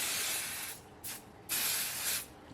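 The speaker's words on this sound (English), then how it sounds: "we're just going to give another spray with our temporary adhesive" A can of temporary adhesive sprays onto a twill patch cutout with a fusible no-show mesh stabilizer, in three close, sharp hissing bursts, long, very short, then long.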